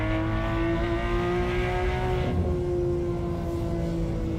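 A racing car's exhaust in Assetto Corsa drones loudly under sustained acceleration, its steady engine tone shifting pitch midway as it pulls through the gears, close and continuous.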